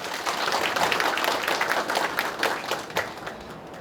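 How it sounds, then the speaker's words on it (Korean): Applause from a small audience at a community town-hall meeting in Sani-myeon, Haenam County, scattered clapping holding steady for a few seconds and thinning toward the end. "박수 한번 부탁드립니다"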